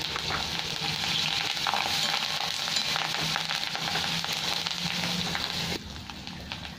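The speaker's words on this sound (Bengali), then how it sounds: "এখানে কারি পাতা কটা দিয়ে দিলাম তেলের মধ্যে" Curry leaves fry in hot oil with green chillies for Bengali aloo dum, a loud continuous sizzle and spatter with stirring scrapes, heard up close without talk before the hiss drops quieter near the end.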